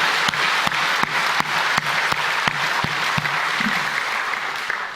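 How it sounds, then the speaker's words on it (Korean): A church congregation breaks into applause, a steady wash of many hands clapping at moderate distance, with a few sharper claps standing out and no voices over it. "모든 영광을 하나님께 돌리면서 영광의 박수 한번 드리겠습니다."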